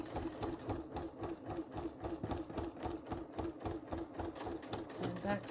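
A sewing machine stitches a faux leather clam shell pouch in fast, even bursts of mechanical clatter, close and fairly quiet, with a short pause near the end.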